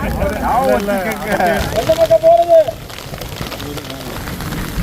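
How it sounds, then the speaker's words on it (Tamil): Heavy rain falls steadily during a mountain trek toward Mukurthi Peak, a constant hiss behind a person talking throughout. "மழை நின்ற பாடு இல்லை, நல்லா மழை பெய்யுது."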